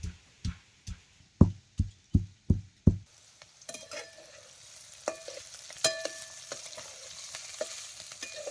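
Tender green bean pods (ghevda) frying in hot oil, after a run of about eight sharp pounding thuds, then a soft crackling sizzle with scattered pops and clinks, close and fairly quiet.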